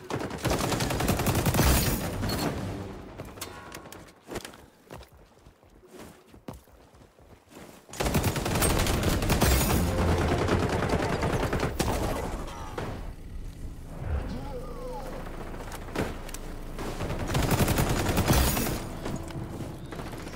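Rapid bursts of automatic gunfire in the shooter game XDefiant, loud and close, with a quieter lull of mechanical clicks in the middle before sustained firing resumes.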